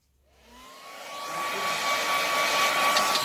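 A hair dryer blows on wet paint in a painting session, starting from silence and quickly rising to a steady, loud, whining roar that holds to the end, with no talking.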